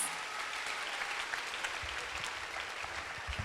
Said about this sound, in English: Let's give a huge round of applause to our incredible dancers.